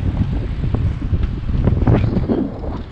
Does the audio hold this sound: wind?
yes